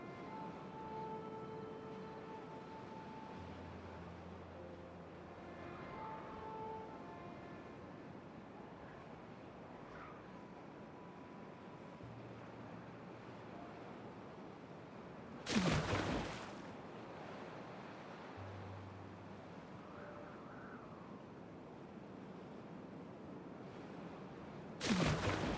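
Water released in Timberborn rushes and washes as a faint, steady surf-like flow, broken by two short louder bursts of noise.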